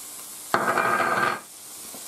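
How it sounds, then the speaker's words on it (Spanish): Garlic added to a paella pan bursts into a loud, close sizzle that holds for under a second before dropping back to a faint background hiss. "Y lo dejamos sofriendo."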